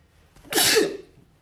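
A single sharp sneeze bursts out loud and close, a brief breathy onset followed by a strong noisy blast lasting about half a second before fading, with nothing else around it.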